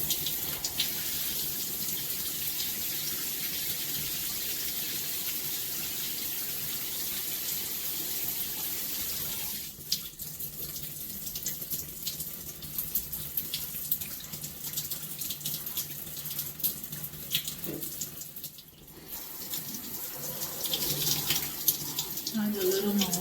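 Tap water running steadily into a bathroom sink or tub, a continuous close hiss and splash that dips briefly around the middle and again later, with no talk in the background.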